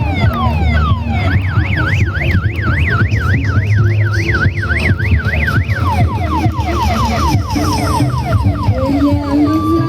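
Wailing fire engine sirens sweep rapidly up and down, then shift to slower rising wails, loud and continuous over a busy rumbling street during a carnival parade in Kuripan Kidul, Cilacap.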